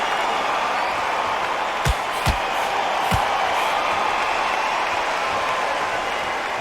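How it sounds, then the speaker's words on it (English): A boxing arena crowd keeps up a steady, dense buzz of murmuring and cheering, with a few sharp thuds rising out of the din. "The crowd here cannot wait. They've been buzzing all day long"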